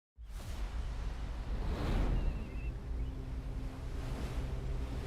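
Ocean waves in a trailer for a 1950s-set film, a loud rush of surf surging in abruptly and swelling into a crashing peak, then rolling on with wind-like whooshes.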